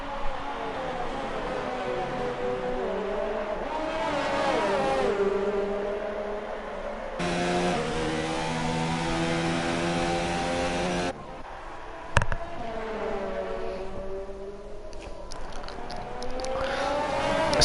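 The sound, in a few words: race cars driving in F1 2019 video game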